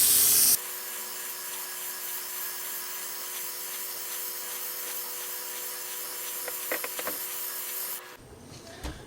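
A spray gun lays hard anno yellow paint onto an RC car shell, giving a steady, close airy hiss that runs unbroken for several seconds before cutting off abruptly.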